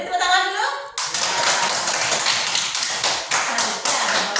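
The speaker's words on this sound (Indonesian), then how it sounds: "Beri tepuk tangan dulu" A classroom of students claps for a group after its presentation, a brisk burst of hand claps that breaks in after a short voice and continues steadily, close and lively.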